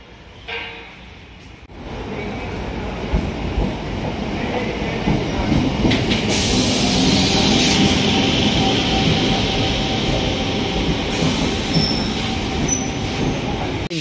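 A train at Chittoor railway station rumbling and clattering past close by, wheels squealing steadily in a loud, continuous roar that builds after a quieter opening.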